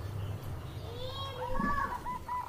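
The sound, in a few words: perkutut zebra dove calling in cage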